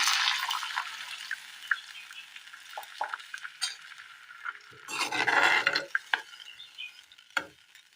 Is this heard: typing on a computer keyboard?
no